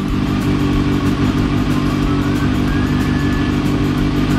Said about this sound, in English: Always nice to hear a bike that you've never owned before start up first time